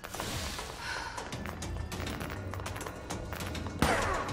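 Gunfire and explosions in the video game Control, a steady barrage of crackling shots and thuds with a sharper bang near the end, loud and continuous under no talking.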